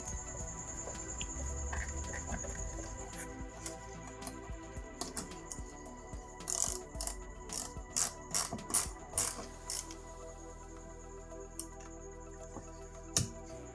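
A ratcheting tool tightens screws and a lock nut on a mud flap bracket of a 2019-2024 Toyota Corolla E210 hatchback, faint close clicking ratchet strokes in irregular bursts over low background hum.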